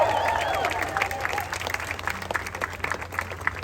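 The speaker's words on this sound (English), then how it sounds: "Let's give them all a huge round of applause." An audience claps and cheers at the Guardians of the Galaxy: Cosmic Rewind grand opening celebration, a dense sustained round of applause with a few shouts mixed in.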